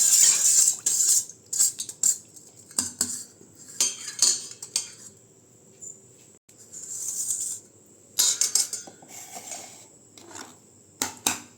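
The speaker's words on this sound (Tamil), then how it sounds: "இதை நல்லா கலக்கி விட்டுக்கலாம்" A metal spoon stirs sugar into badam pisin (almond gum) juice, clinking repeatedly against the glass in quick, uneven bursts with short pauses, close and fairly loud, no voices.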